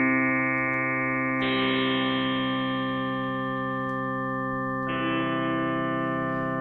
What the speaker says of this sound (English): So it's got this kind of whine happening now in here.